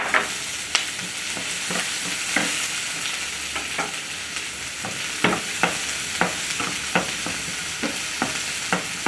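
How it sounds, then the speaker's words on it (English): Onions frying in oil and being stirred, a continuous sizzle broken by about a dozen sharp scraping clicks from the utensil against the pan, close and clear with no speech. "Just keep turning as they are becoming translucent."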